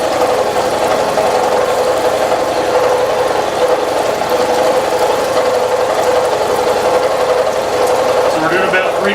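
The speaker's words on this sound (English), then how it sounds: "So we're doing about 3/4 depth of cut here with a 5/8 ball end mill, 2-flute, high-speed steel." An old Niagara milling machine cuts at 3/4 depth with a 5/8 two-flute high-speed steel ball end mill, making a continuous loud droning grind with a buzzing mechanical hum that holds steady throughout.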